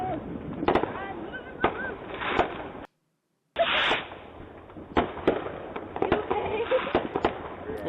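Fourth of July fireworks go off in a run of sharp bangs and crackles, loud and close, with a brief silent gap partway through.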